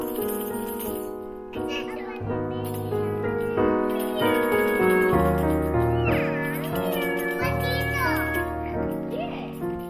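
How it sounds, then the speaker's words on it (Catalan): A cat meows repeatedly in a rising, wavering voice over steady background music, the cries close and clear. "És un gatet o una gateta?"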